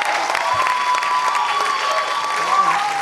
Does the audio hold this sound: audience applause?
yes